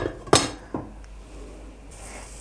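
Pan lid set down on a frying pan cooking potato eggs with kasar cheese, two clear clinks of metal and cookware near the start, then a faint kitchen hum and another clink at the end.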